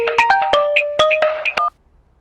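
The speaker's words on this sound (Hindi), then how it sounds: "फोन बज रहा है।" A mobile phone rings in a Hindi-dubbed South Indian comedy film: a bright melodic ringtone of quick notes plays loudly for under two seconds, then cuts off into silence.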